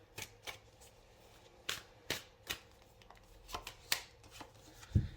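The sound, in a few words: tarot cards being shuffled and drawn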